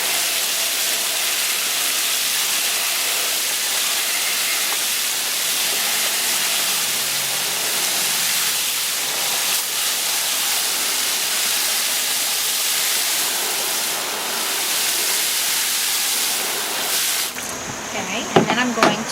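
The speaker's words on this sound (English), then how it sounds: "I'm going to pour some more water in there." Water poured steadily into a container, a broad continuous rushing splash that runs for many seconds before cutting off, with brief handling noise and a voice at the end.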